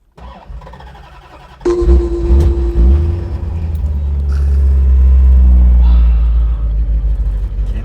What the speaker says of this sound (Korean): 자 어쨌든 한번 시동 걸어보도록 하겠습니다